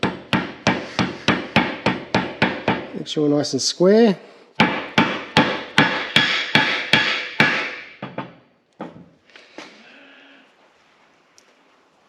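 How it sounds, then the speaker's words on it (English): Steady, rapid taps of a dead blow hammer knock a bearing into place during a Toyota 40 series clutch change, a few dozen dull thuds in a row, with a brief spoken remark midway. "Dead blow hammer, nice and soft."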